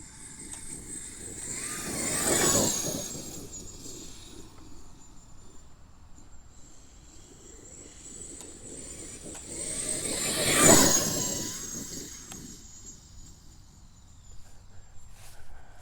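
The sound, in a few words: Traxxas X-Maxx RC truck driving past in a flyby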